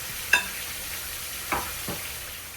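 Cube steak pieces fry in hot grease with a steady broad sizzle, broken by a few sharp clicks or scrapes of a utensil, close and even throughout.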